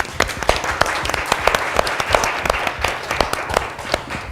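Audience applause at a school board of education monthly open session held at an elementary school, a steady round of many hands clapping that carries through the whole stretch at an even, fairly loud level.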